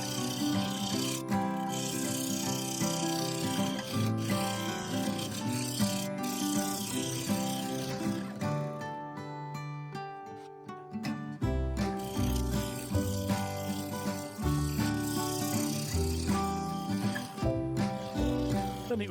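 A sapele blank spins on a wood lathe while a 3/8 bowl gouge shapes the base, giving a continuous scraping, rasping cut over a steady motor hum with tonal whine. The sound is close and sustained, with a brief thinner stretch midway.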